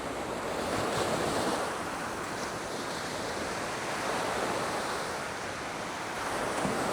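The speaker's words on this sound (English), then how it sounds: "And it has some nice waves." Ocean waves wash and break continuously on Da Nang Beach, a broad roaring surf with some wind buffeting the microphone, no voices.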